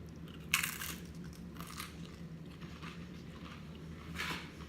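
Crunchy bites into vegan nachos, three short bright crackles spaced apart over a steady low background hum, close and fairly quiet.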